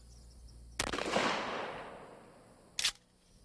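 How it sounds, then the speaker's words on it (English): A shotgun loaded with number 9 birdshot fires once at a mannequin wearing soft body armor, a sharp blast with a decaying tail, then a second short sharp impact-like crack about two seconds later. "We try it first with number 9 birdshot."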